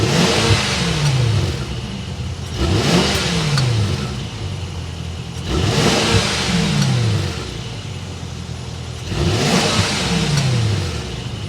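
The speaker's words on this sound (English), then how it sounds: "start it up, so we can hear what that exhaust sounds like" A 2022 Mercedes-Maybach GLS600 with a 4.0-litre bi-turbo V8 revving after start-up, four loud rising-and-falling blips roughly every three seconds, throaty exhaust over a steady idle.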